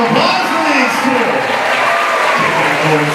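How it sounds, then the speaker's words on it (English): An audience at a live comedy show applauds continuously, a dense steady wash of clapping with scattered cheers throughout, while a voice talks over the crowd. "How about a round of applause for these two?"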